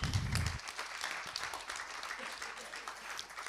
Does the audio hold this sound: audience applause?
yes